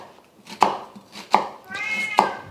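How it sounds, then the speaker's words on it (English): A knife strikes a cutting board three times, spaced evenly and close, while chopping half an onion. A cat meows over the cuts. "I have half an onion that I'm just going to chop up."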